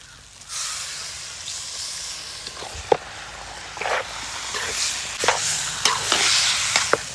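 Chicken pieces dropped into a pan of pepper chicken gravy, hissing and sizzling steadily and growing louder, with a few sharp spoon clacks against the pan, close, no voices.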